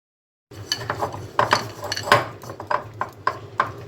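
Maida dough is worked with a spoonful of oil in a bowl, producing a series of soft, close clinks and scraping knocks against the bowl in an uneven rhythm.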